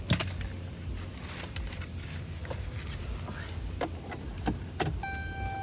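Keys jangling and scraping near the ignition inside a 2012 Ram 1500 Laramie pickup cab, a few metallic rattles and clicks over a low steady hum, ending in a short electronic chime.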